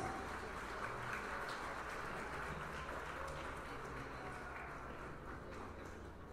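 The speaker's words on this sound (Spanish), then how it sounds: "Fuerte el aplauso, señoras y señores." Crowd applause at a wedding celebration, a steady, dense wash of clapping from many guests that holds evenly throughout, heard from within the room.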